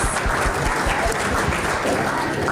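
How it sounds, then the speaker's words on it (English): An audience at an annual homeowners association education event applauds steadily, a dense, even wash of many hands clapping from start to finish. "a round of applause to you for being here"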